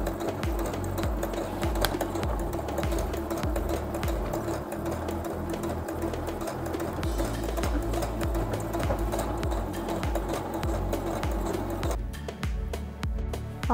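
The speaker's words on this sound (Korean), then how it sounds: "그 다음 스커트에 재봉하지 않은 윗부분에 주름을 주겠습니다" A Brother sewing machine runs at maximum stitch length and maximum tension, gathering the unsewn top edge of a skirt for a dog garment. Its rapid, rhythmic stitching chatters steadily and close, with no voices, and shifts in tone near the end.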